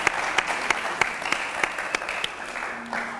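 An audience at a Christian gospel broadcast applauds steadily to acclaim the Lord, a continuous wash of clapping with a few sharper claps standing out, fairly close and with no talk over it.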